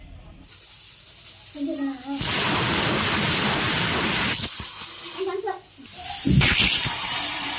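A pressure cooker whistle lets out a loud, sustained steam hiss while cooking sambar with brinjal and ridge gourd, cutting off briefly before hissing again, with faint speech-like sounds around it.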